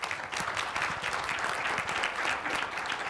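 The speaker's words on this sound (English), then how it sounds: "let's give some applause to Smashfly" A brief burst of steady audience applause at the HRO Today Forum 2014 talent competition, greeting the Smashfly presentation; dense clapping from a crowd in a conference hall, even throughout.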